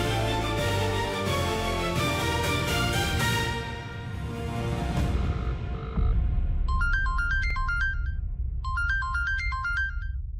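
A phone ringtone plays from a TV drama scene, a repeating electronic chiming pattern that enters after dramatic background music fades, ringing in two clear bursts.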